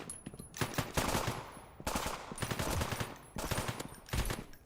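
Burst-fire gunshots from a video game weapon, several rapid clusters of sharp cracks separated by short pauses, loud and close.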